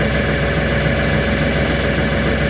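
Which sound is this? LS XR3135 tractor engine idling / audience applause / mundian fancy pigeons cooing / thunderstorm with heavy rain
LS XR3135 tractor engine idling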